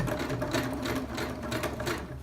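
A sewing machine with a thick needle runs steadily through folded recycled denim jeans, top stitching along a fold in one continuous, fairly quiet mechanical whir with no talking.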